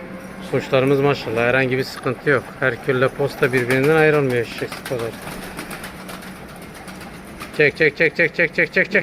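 Pigeons coo amid people talking nearby, with a run of rhythmic, repeated calls toward the end.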